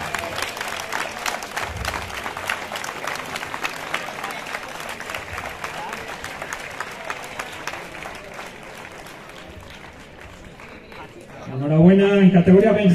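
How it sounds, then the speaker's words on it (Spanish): Crowd applause at an outdoor running race prize ceremony in Monleras, honoring five young runners; steady clapping runs throughout, fading slightly before a louder announcer voice cuts in at the end. "un fuerte aplauso para los cinco"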